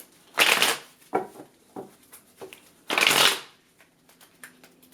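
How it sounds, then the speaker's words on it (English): Two tarot decks, a New Orleans Voodoo deck and a Yoruba deck, are shuffled by hand in two loud riffling bursts separated by softer taps and card handling. "I'm gonna do a fresh shuffle for both my New Orleans Voodoo and my Yoruba deck"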